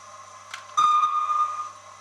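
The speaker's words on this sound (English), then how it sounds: "So there's a short whistle," A Howells of Oxford DCC sound decoder gives a short, shrill steam locomotive whistle, a steady tone lasting under a second over faint background hum, alone and fairly loud.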